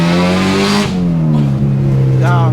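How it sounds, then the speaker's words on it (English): Honda with a K-swap engine revving hard from inside the car, a loud, steady rising engine note that climbs sharply as VTEC engages, then holds high with a second surge near the end. "it cracks VTEC instantly, like straight away"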